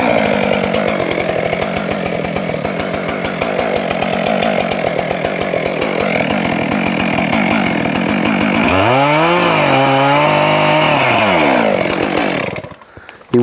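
A chainsaw cuts the back strap while felling a balsam fir, buzzing loud and sustained, then revving up and down in long sweeps before cutting off at the end.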